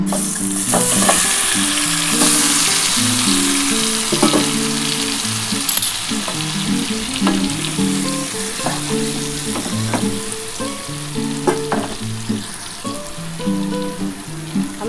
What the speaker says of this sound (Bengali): এবার আমি তেল গরম করে নিয়েছি এই তেলের মধ্যেই আমি এটা দিয়ে দিলাম